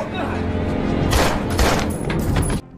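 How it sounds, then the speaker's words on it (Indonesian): Gunfire from a film's crime scene in which a suspect shoots two people: dense booming bursts rise over a continuous loud soundtrack, with muffled voices mixed in. "si tersangka berhasil melepaskan tembakan yang mengenai mereka berdua"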